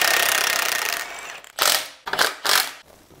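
A 32 mm socket on a pipe breaker bar cracks loose a pinion nut on a squarebody truck's rear axle. After a steady mechanical whir come three loud, ratcheting bursts, close up, with no talk.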